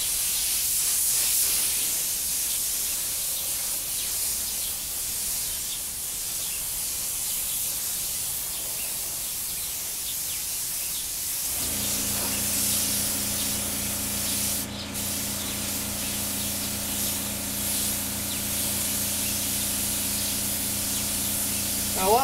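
Spray gun laying silver paint onto a Benelli motorcycle fairing, a loud continuous hissing spray that runs throughout, joined midway by a steady tonal compressor-like drone beneath it.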